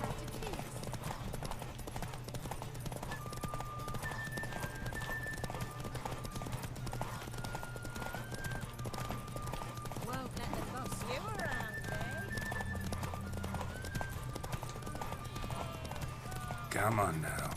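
Hooves of the horse Roach from The Witcher 3 clip-clop in a steady galloping rhythm, loud and close, while someone talks over them.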